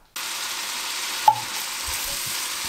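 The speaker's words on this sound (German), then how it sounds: "Ich brate jetzt das Gemüse hier etwas an" Vegetables frying in a pan give off a steady close sizzle that starts abruptly and holds evenly, with a brief clink of a utensil partway through and no talking.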